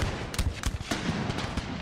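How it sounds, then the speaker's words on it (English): British artillery and skirmishers' musket fire in a Napoleonic 1809 battle, heard as a rapid, uneven series of sharp cracks and dull booms over a constant rumbling backdrop, loud and continuous. "Stoic British artillerymen continue their duel with the French cannon, supported by skirmishing fire"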